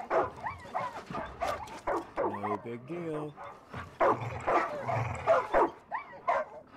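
Video game dogs bark and yip repeatedly in short bursts, mixed with a whimper, while a person talks over them throughout.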